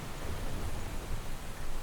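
Steady rain falls in an even, dense wash with a low rumbling undertone like distant thunder, continuous and moderately loud with no speech.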